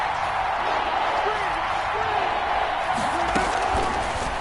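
A stadium crowd roars steadily ahead of a big third down in a PS4 football game, a constant broad cheer with faint thumps underneath.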